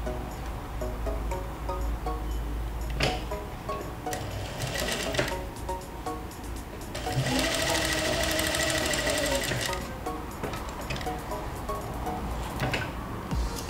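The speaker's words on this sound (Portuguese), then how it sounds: "A máquina estando reguladinha para pé de um quarto, que é a minha industrial, a industrial tem um pezinho de um quarto." Industrial sewing machine fitted with a quarter-inch foot stitching patchwork pieces, giving a steady close-up mechanical whir with rapid needle ticking and a louder, faster run in the middle.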